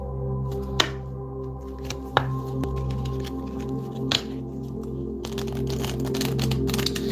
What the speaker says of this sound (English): I want to give it a good shuffle because I haven't used them in a while